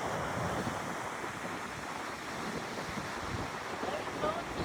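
Meltwater waterfall fed by spring snowmelt in the Spanish Pyrenees, a steady broadband roar of falling water mixed with wind buffeting the microphone, continuous and fairly close throughout.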